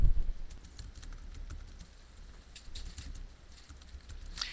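Computer keyboard typing in quiet, irregular clusters of soft clicks, faint and close, with no talk.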